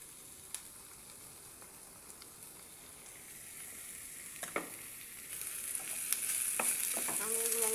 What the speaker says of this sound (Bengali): আমি এগুলো লাল লাল করে ভেজে নিলাম।